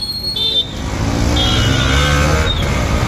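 Car engine hums steadily under a driving lesson as the learner presses the accelerator, low rumble rising slightly, with a voice talking over it throughout.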